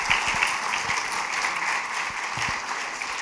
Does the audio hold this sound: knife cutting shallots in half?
no